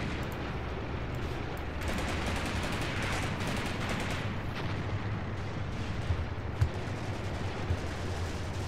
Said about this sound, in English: Nice shooting there. We got a nice hit on that tank.